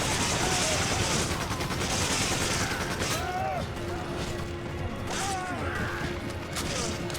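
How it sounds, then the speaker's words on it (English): Machine gun fire in the Resident Evil 5 video game, bursts of rapid shots mixed with game sound effects and music, with people talking over the action throughout. "You have a machine gun."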